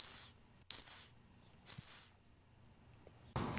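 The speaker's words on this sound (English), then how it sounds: "So here's the whistle." A small whistle built into a Skagele/Kingmax outdoor multitool gives three short, shrill, high-pitched blasts, each about a third of a second long and spaced by brief pauses, loud and close with no talking.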